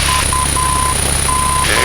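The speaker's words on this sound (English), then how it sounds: "You hear the Morse code." A VOR radio beacon's Morse code identifier plays over a light aircraft's radio, a Luscombe on a cross-country flight, as a steady tone keyed in short and long pulses under constant cockpit engine and radio hiss.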